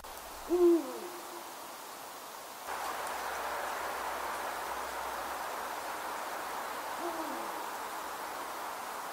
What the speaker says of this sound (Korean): 어둠에 잠긴 세상을 내려다보는 수리부엉이.